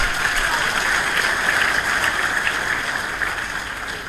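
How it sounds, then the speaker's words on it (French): Applause for the rector at a book presentation at the University of Kinshasa, a dense, sustained crowd clapping that stays steady and loud throughout before easing slightly near the end. "Je pense qu'il faut vraiment l'applaudir très fort"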